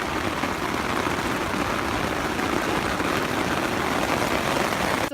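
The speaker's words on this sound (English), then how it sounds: "There was a massive storm, like just a huge downpour." Heavy rain pours down in a storm downpour, a dense, steady hiss of drops drumming on surfaces, loud and unbroken throughout with no voices.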